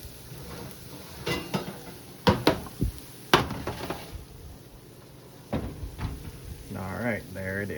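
A focaccia pan comes out of a home oven with several sharp metallic clanks and knocks, a scrape, then a person talking at the end.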